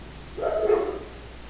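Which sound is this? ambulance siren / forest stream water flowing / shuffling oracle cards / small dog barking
small dog barking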